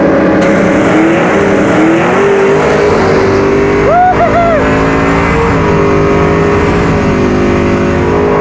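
A Firebird race car's engine revs and accelerates loudly at a drag strip, pitch climbing steadily, then briefly dipping and surging again as it shifts through gears.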